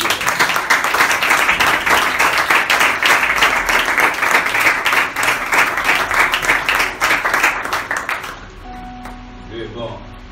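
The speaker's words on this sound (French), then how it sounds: "Est-ce qu'on peut acclamer le Seigneur?" A church congregation in Dakar claps and cheers loudly for the Lord, a dense, sustained burst of applause and voices that tapers off near the end.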